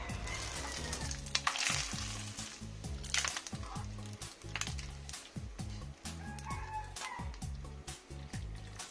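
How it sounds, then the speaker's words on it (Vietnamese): Tofu frying in a pan of hot oil for a Vietnamese vegetarian noodle soup, a steady close sizzle with crackling and scraping stir sounds throughout, no talking. "em cũng dùng cái chảo dầu đó để dùng để chiên tàu hủ"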